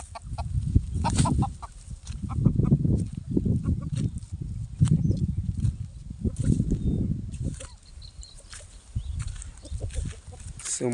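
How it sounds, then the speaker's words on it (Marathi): Country hill chickens cluck and murmur in a group close by, a busy, continuous flock chatter with occasional sharper calls and some background voices. "अशा कोंबड्या आपल्याकडे आलेले आहेत."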